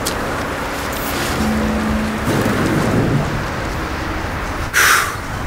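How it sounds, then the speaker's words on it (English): A storm in the video game No Man's Sky, with steady rain hissing and a low thunder rumble under it, a brief tonal hum partway through and a sharp bright burst near the end, no talking. "All right, just kind of waiting out the storm."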